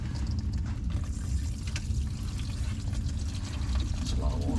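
Water pours steadily from a leaking faucet, a continuous splashing rush running the whole time at close range, while a voice talks faintly over it.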